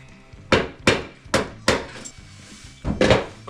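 Six sharp hammer blows land on a machine part, close and loud, in an uneven rhythm of quick strikes with a short pause before the last two.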